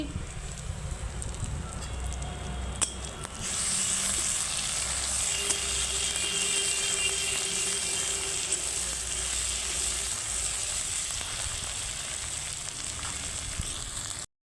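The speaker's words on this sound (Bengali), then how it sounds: "এই দেখুন বন্ধুরা এখন পেঁয়াজ লাল লাল হয়ে গেছে এখন আমি আদা বাটা দিয়ে দিচ্ছি" Browned onions sizzle and crackle steadily in a pan over a clay stove, and the frying grows louder and brighter once ginger paste is added, then holds at a constant close hiss.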